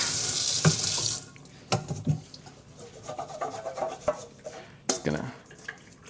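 A kitchen tap runs while bread dough is scrubbed off a dish, with splashing water and rubbing scrapes in uneven bursts, close and fairly loud.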